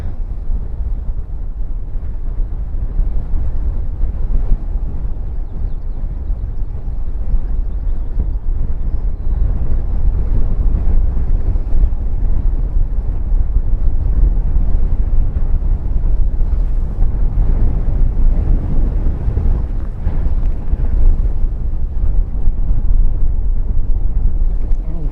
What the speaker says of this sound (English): Not prepared for this wind today.